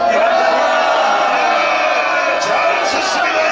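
A large crowd at a Korean political party gathering applauds and cheers, a loud, dense, sustained roar of clapping and voices.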